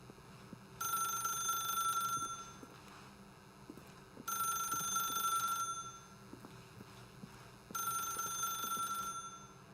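A telephone rings in the video game The Stanley Parable, three long electronic ringing bursts with pauses between them, clear and steady over a quiet ambient background.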